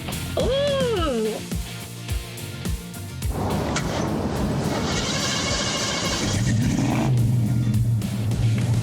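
A truck engine revs and runs steadily through most of the stretch, fairly loud and close, after a few excited exclamations at the start.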